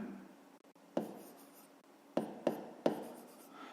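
An equation for a fifth-grade maths exercise is written out by hand. Several distinct taps and scratches of the writing tool mark the surface over a quiet room, close and soft.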